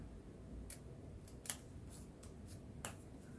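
Scissors snip a straight cut in a craft project with Dollar Store Jenga blocks, giving a few sharp, faint clicks spread across a quiet room with no talking.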